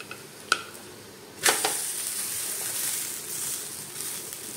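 Food for a vrat recipe frying in a pan on medium heat after being flipped, a steady soft sizzle rising sharply after a couple of quiet seconds, with a few brief clicks and scrapes from a utensil.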